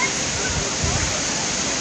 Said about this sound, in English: the water just coming down towards me